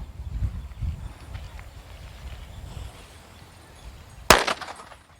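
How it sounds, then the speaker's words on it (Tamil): A nattu vedi Diwali firecracker bursts once with a sharp loud bang near the end, after a stretch of low outdoor rumble and faint background noise. "இன்னும் 2 வெடி போட்டு காமிக்கிறேன்."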